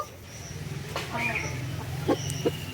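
A domestic country chicken clucks a few times at close range, short soft calls with a couple of sharper clucks near the end, over a low steady background hum.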